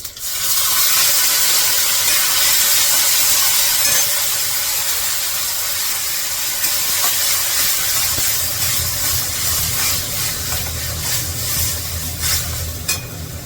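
Cumin and other spices sizzle in hot oil for a Maharashtrian masala usal, a loud, steady frying hiss with occasional stirring scrapes running throughout, no voices.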